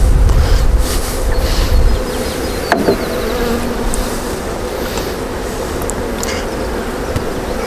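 Honeybees from a newly installed package, feeding on sugar, buzz in a loud, dense, continuous drone close by, with a few sharper taps and knocks over the hum.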